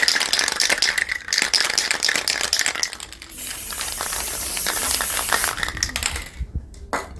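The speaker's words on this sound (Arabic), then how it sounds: "هنرش دلوقتي الطبقة التانية من كل سبراي منهم." Aerosol spray can hissing as it lays a second coat of high-gloss or matte protective finish over printed pictures and drawings, with can-shaking rattles at the start, then a steady close hiss and a brief pause near the end.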